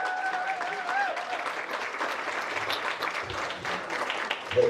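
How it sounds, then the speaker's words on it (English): Audience applause at an art talk event held at a Motoworld venue, a moderately loud, dense patter of many hands that holds steady before a louder burst at the very end. "a round of applause for Nicole Chantal DeWeaver"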